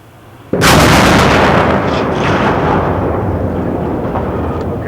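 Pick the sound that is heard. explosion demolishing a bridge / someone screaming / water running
explosion demolishing a bridge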